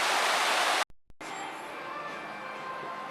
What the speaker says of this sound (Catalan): I aquí l'Alfredo s'està prenent un banyet de cascada.